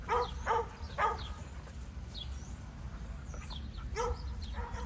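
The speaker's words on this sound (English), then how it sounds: "And there's Murphy, the neighbor's dog." A neighbor's dog barks in short yips from a distance, a few quick barks at the start and more near the end, faint over steady outdoor background noise.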